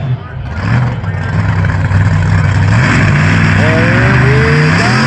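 Chevy Silverado monster truck engine rumbling loudly and revving up at a speedway show, a deep sustained roar climbing in pitch toward the end.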